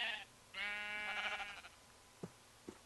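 Sheep in the Minecraft video game bleat in a long, nasal, wavering call lasting about a second, followed by two short, softer clicks or steps, with no talking.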